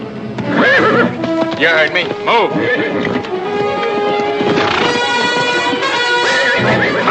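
A spirited horse neighs repeatedly in loud, shrill whinnies while hooves clop and stamp nearby, with a voice speaking over the commotion.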